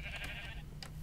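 A sheep bleats in Minecraft, one short wavering bleat followed by a brief second cry, moderately close over a low steady background hum.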